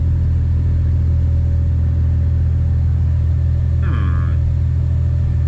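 A BMW N54 single-turbo engine idles with a steady low rumble, its car suffering misfires and a BSD fault; the drone runs unbroken throughout, with a brief faint chirp near the end.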